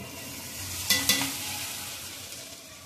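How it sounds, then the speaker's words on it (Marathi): Crushed pigeon peas and green peas drop into a hot pan for kachori filling, giving two quick soft splashes near the one-second mark, followed by a low steady sizzle with faint stirring. "आपण हे क्रश केलेले तुरीची दाणे आणि मटार टाकूया"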